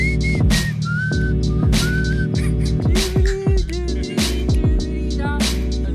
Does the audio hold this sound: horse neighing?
no